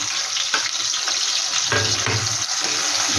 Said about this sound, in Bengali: হালকা করে একটু সর্ষেটা একটু নাড়াচাড়া করে দিচ্ছি